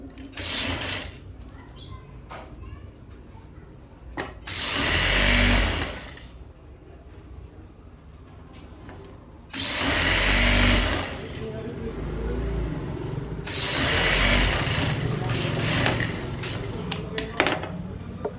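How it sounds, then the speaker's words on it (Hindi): A tailor's sewing machine stitches fabric while cuffs and sleeves are made, three loud, close bursts of rapid mechanical whirring separated by quieter stretches of handling noise and talk. "एक को ऊपर से सिलाई करेंगे, एक को नीचे से।"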